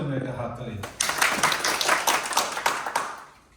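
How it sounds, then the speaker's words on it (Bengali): Audience clapping at a fundraising event for a New York State Democratic primary Assembly candidate, a burst of dense applause starting abruptly after a quieter murmur and carrying steadily for a few seconds before fading. "হাততালি।"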